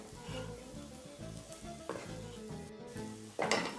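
Ingredients for a ham and mozzarella toasted sandwich with mushrooms sizzle and get stirred in a pan, a steady close fry with scraping and a brighter hiss near the end, no voices.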